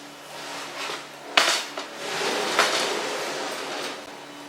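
Metal parts of a wooden "Pablo" easel clink and clatter as screws are loosened and a piece is turned around, with a sharp knock midway and softer handling noises over a steady room hiss.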